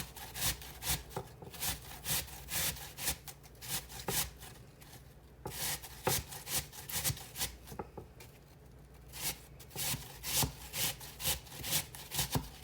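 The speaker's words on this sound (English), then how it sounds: "Now we're just going to take our apple and we're going to grate it." A whole apple grated by hand for an old-fashioned apple dessert, heard as steady, rhythmic rasping strokes repeating close up, with no talk.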